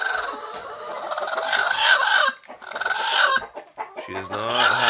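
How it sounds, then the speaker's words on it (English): A broody hen among a flock of chickens, loud agitated clucks and drawn-out squawking calls with other hens murmuring around her, close and continuous, briefly dropping away before rising again. "Hey chickens! Looks like we have a broody hen."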